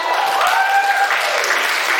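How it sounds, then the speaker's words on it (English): Steady applause from a crowd at a school English debate, clapping densely and continuously throughout, fairly close and loud. "Please big applause for them."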